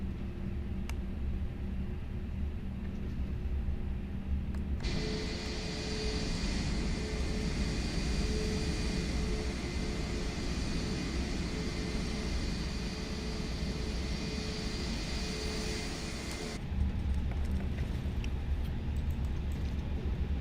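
Airbus A320neo engines spool up to takeoff power in Microsoft Flight Simulator, a loud steady broadband roar with whining tones that holds for about twelve seconds over a low cabin rumble, then drops back to quieter background hum.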